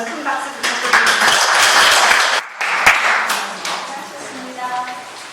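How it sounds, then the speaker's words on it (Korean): Applause rises from the attendees of a church Bible lecture, a dense round of clapping that briefly dips before continuing. It then tapers off under the murmur of voices. "다시 한번 큰 박수 부탁드립니다."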